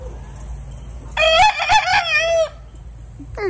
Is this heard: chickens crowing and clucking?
yes